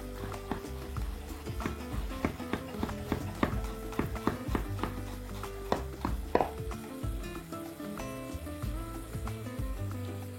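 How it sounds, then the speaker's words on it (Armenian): A knife chops about five small crushed garlic cloves for onion soup, making irregular close knocks and taps on a board over a steady background of music. "Ճզմում ենք դանակի շեղբի տակ և մանր կտրատում։"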